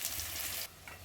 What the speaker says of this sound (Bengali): বেগুনগুলো একটু ভেজে নেওয়া হচ্ছে